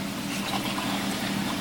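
Liquids and seasonings poured into a pot of homemade beef stew, giving a steady, close trickle and dribble of liquid that runs evenly with no talk.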